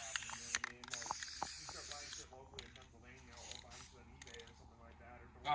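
Self-tapping screws driven into a Jeep body with a power driver, its whirring, ratcheting bursts coming in short stop-start runs of varying pitch, fairly close.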